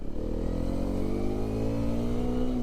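Hero Xpulse 210 motorcycle engine and exhaust pulling steadily under acceleration, its pitch climbing smoothly through a gear, loud and close with no talking.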